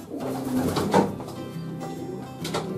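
Soft, low coos from a breeding pigeon pair repeat through the clip over a steady background murmur, fairly close, beside their cage.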